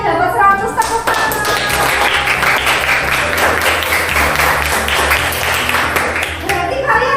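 Classroom students clapping together after all scoring 100, a loud close burst of rhythmic hand claps that keeps going steadily, with children's voices mixed in.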